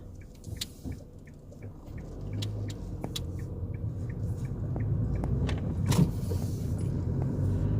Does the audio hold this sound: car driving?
yes